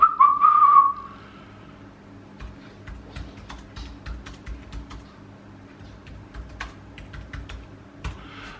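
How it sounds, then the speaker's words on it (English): Typing on a computer keyboard: a short whistled tone opens, then a run of close, irregular key clacks continues alone, with no talking. "I'll just type it in."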